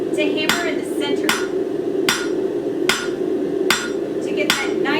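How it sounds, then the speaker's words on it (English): A hammer strikes hot metal on an anvil while a three-prong fork is forged, landing seven sharp, ringing blows at a steady rhythm under a constant roar from the forge. "to hammer in the center"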